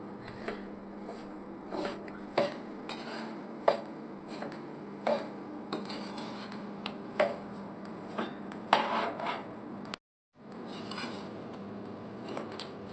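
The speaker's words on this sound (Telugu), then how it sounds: "వేయించుకోవాలండి, కొంచెం రంగు మారే వరకు కూడా." Semolina (rava) roasting in a pan on a stove at medium heat, with a spoon repeatedly scraping and stirring it: irregular scratchy strokes and light metallic taps, close and steady, with a brief pause near the end.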